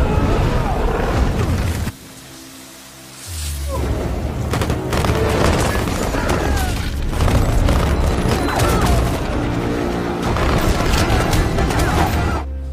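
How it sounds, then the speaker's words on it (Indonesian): A movie gunfight in which agents open fire on Morpheus: loud, repeated booming shots and bursts of gunfire, dense and close, with a brief lull before the barrage resumes amid effects and mixed score. "para agen mulai melepaskan tembakan ke arah Morpheus"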